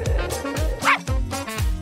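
A small dog or pup gives a run of short, high yipping barks that slide down in pitch, repeated about five times in quick succession at close range, with a brief whine in the middle.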